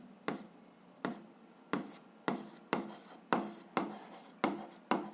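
Pen strokes scratching on paper while working a 7th-grade algebra exercise: about nine short, evenly spaced scribbles, each a quick rasp that fades, close and fairly quiet, with no talking.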